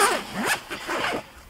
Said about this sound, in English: they've got the double zip system, so you can open it one side or you can follow it all the way around